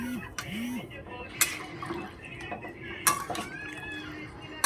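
A spoon stirring a fish curry with eggplant and potato in a pot, scraping and clinking against the metal with sharp knocks and some liquid movement, close by.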